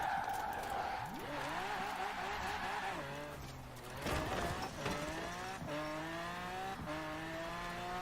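A car in the Forza Horizon 4 racing game revs hard through repeated gear changes, its engine pitch climbing and dropping in rising sweeps, with tire squeal and skidding mixed in, fairly steady and without talk.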